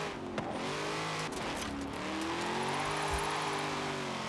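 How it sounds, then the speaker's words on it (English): Corvette C8 American V8 in the racing game Forza Horizon, a meaty engine note rising and falling as the car revs and accelerates, steady and close throughout with brief tire noise, no talking. "It's very V8-y, meaty sounding."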